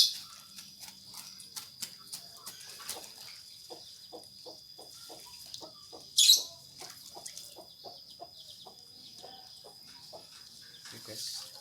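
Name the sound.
chickens being shooed away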